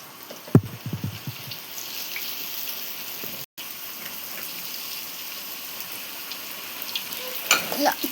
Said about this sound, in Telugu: ఆయిల్ హీట్ అయిన తర్వాత ఇట్లా ఒక్కొక్క అప్ప తీసుకుని ఆయిల్లో వేసుకోవాలి.